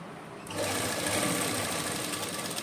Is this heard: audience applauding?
no